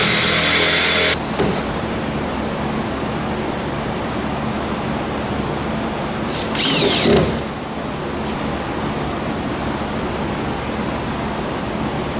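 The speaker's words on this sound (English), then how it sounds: "So I'm going to take my Dynafile here, go along the edge of the line I've already marked" A Dynafile air belt sander cuts along a marked line, giving a loud, steady broadband hiss and whir that starts with a harsher burst and swells briefly partway through.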